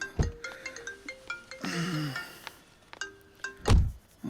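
A mobile phone rings with a repeating melodic electronic tone, broken by a louder warbling stretch and scattered dull thumps nearby, ending with a heavy knock.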